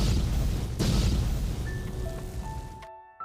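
An airstrike explosion booms in a deep, rumbling blast that slowly fades over a few seconds, loud and close, ending in abrupt quiet.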